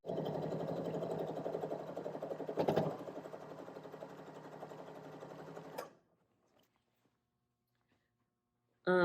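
A sewing machine stitching fabric at full speed, a loud steady whir for about six seconds that stops abruptly into near silence.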